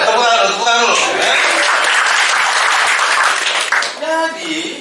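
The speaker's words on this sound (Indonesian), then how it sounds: "Tepuk tangan dulu." An audience at a talk on learning quadrants breaks into loud, sustained clapping, with a voice heard just before the applause and again as it fades.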